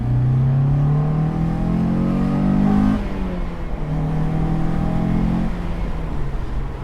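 A Honda S2000 engine revs hard and close, its pitch climbing, then dropping and climbing again in a loud, raspy sweep with no talking.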